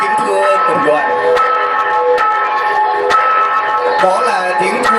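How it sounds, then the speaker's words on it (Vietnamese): Bells ring loudly from the tower of Quế Phương parish church during Christmas festivities, a dense layered peal of rich sustained tones punctuated by irregular strikes, filling the whole stretch without pause. "đó là tiếng chuông ngân vang từ tháp chuông nhà thờ Sáu Xứ Quế Phương"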